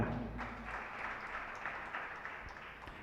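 Audience applause at a Jain spiritual discourse, a soft, steady patter of many hands clapping at a distance, continuous and fairly faint throughout.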